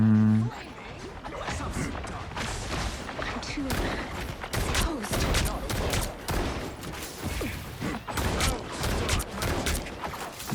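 Gunfire in the Marvel Rivals video game, a dense rapid stream of shots and impacts under constant game noise, with a player talking over it.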